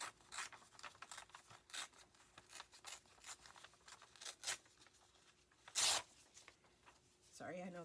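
Paper rubbed, rustled and torn while a junk journal with a fabric spine is assembled: a run of scratchy, uneven rubbing strokes close to the mic, with one sharp louder tear near the end.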